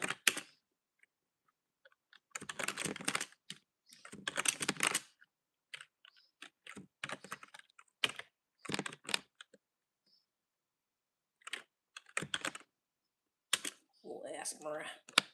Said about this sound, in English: she's doing a little typing ASMR